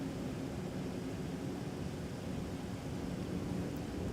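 A Boeing 757-300, a former Northwest airliner, arrives to land on runway 30 left at Minneapolis airport, its jet roar a steady, broad rumble held at a constant level with no talk.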